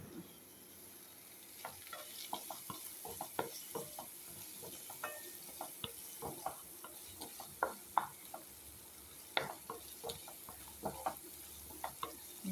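Ginger paste frying in a pan for chicken curry, with a soft steady sizzle under repeated scraping and clicking strokes of a spoon stirring, quiet and close.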